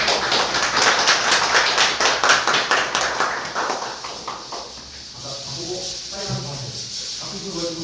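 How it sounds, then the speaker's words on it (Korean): Audience clapping at a signing ceremony for small business owners in Wonju, a burst of brisk, fairly loud applause that fades after a few seconds as voices take over. "모두 박수 부탁드리겠습니다"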